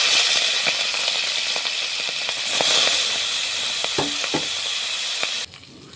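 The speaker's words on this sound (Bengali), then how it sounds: "চিংড়ি মাছগুলোকে এখন ভেজে নেব, তেলের মধ্যে দিয়ে দিচ্ছি।" Prawns fry in hot mustard oil in a kadai with a loud, steady, close hissing sizzle and scattered crackles and pops, cutting abruptly quieter near the end.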